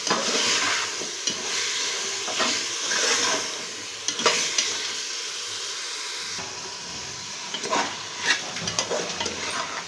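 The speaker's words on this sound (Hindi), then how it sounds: "अदरक लहसुन के पेस्ट को भी गोश्त के साथ इसी तरह से फ्राई करेंगे" Ginger garlic paste frying with mutton for pumpkin gosht, a steady sizzle and hiss with repeated stirring scrapes through the pot, close and continuous with no talk.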